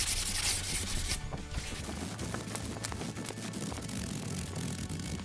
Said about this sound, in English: I use a Scotch-Brite pad and a sanding disc.